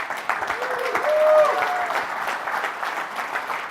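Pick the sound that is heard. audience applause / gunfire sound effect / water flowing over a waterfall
audience applause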